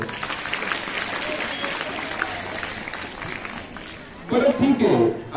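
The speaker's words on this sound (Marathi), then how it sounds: "टाळ्या वाजवा त्यासाठी." An audience claps in a short burst near the end, after a stretch of murmuring crowd and talk at a children's values talk, the applause loud and dense but brief.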